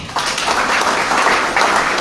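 A church congregation breaks into applause during a sermon, a steady wash of many hands clapping at moderate volume for a couple of seconds.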